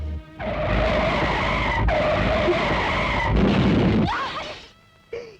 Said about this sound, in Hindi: यार जरा ऐसा गाड़ी चला, रास्ता खराब है